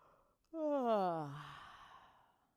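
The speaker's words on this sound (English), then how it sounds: "another yawn. Let it be hearty." A single long, hearty yawn from a person during a yoga stretch, starting abruptly, falling in pitch and trailing off into a breathy exhale, close and fairly loud against quiet.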